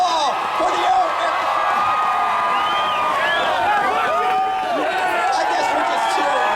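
A crowd at a pep rally with the Air Force Academy drum and bugle corps and the Western Michigan marching band cheers loudly and continuously, with rising whoops and yells mixed with chatter and a voice speaking over the noise.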